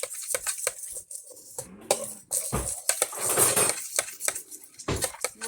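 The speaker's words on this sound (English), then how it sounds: "Mix that with the spoon." A spoon stirs barbecue sauce in a bowl, making a run of irregular clinks, taps and scrapes against the bowl's sides, close and clear, with no one speaking.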